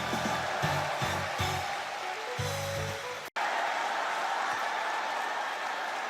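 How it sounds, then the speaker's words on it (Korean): Audience applause at a crowded Korean political talk event: a steady, dense wash of clapping lasting several seconds, with a brief voice near the start. "다시 한번 큰 박수 부탁드리겠습니다"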